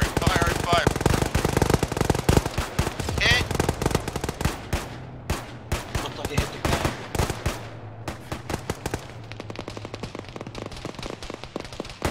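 Automatic gunfire in an Arma military video game played with the ShackTac group, dense, loud rapid bursts that thin into scattered shots, with voices talking over the shooting.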